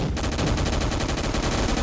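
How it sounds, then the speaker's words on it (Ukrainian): Rapid gunfire from a Roblox gunfight game, a dense stream of shots filling the clip with steady, loud bursts and no talk over it. "тут якийсь чувак в мене стріляє і не попав в мене"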